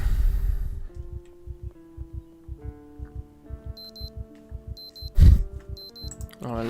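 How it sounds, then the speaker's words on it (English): A video game alarm clock in Project Zomboid rings as a steady run of short repeated electronic beeps at moderate loudness, with talk and game sounds underneath and a brief loud thump near the end. "Oh, alarm's going off."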